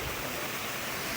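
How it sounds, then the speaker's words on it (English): Steady, broad rushing hiss of falling water at Argyle Falls, the highest waterfall in Tobago with a 175-foot drop, heard as an even, moderately faint wash with no talk over it. "Argyle Falls is the highest waterfall in Tobago, and they drop at a total of 175 feet or 54 meters"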